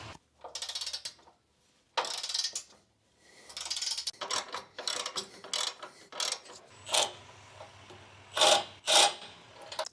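Bolts are cinched down with a ratchet while installing rock sliders on a 2005-2015 Nissan Xterra: bursts of rapid clicking strokes separated by short pauses, close and fairly crisp.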